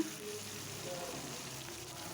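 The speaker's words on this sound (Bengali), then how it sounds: "লাল লাল করে মাছ ভেজে নিচ্ছি" A soft, steady sizzle of fish frying in hot oil, continuous and fairly quiet throughout.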